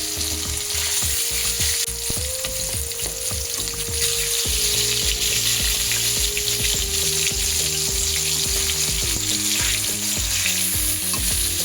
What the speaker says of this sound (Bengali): এবার এর মধ্যে লবণ হলুদ মাখিয়ে রাখা কাতলা মাছগুলো একে একে দিয়ে ভালো করে এপিট ওপিট ভেজে নেব।